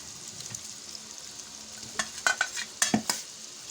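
Spoon stirring chicken biryani masala with potatoes in a pot, soft sizzling under a few scraping clinks toward the end, close and fairly quiet.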